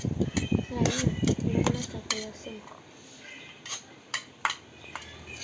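A spoon stirs fruit custard in a metal pot, first under a voice and then alone as a few sharp, separate clinks and scrapes against the pot's sides.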